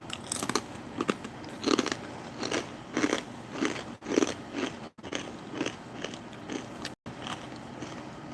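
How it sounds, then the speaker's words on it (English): Sea salt and black pepper pita chips being bitten and chewed close up, a run of sharp, dry crunches in an uneven rhythm with short pauses between bites. "These are sea salt and black pepper pita chips."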